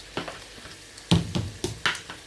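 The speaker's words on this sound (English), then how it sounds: "while the onions is frying, it's just for a few more seconds" Onions frying in a pot on a cooker turned down to low-medium heat, giving a soft sizzle with several sharper crackles and spits scattered through it. No one speaks.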